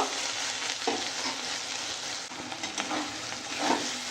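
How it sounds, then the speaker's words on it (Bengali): Spices with turmeric and hot chili powder stir-fry in oil, a continuous close sizzle broken by soft scraping stirs at intervals. "আর দিলাম ঝাল লঙ্কার গুঁড়ো এবার ভালো করে একটু কষিয়ে নেব"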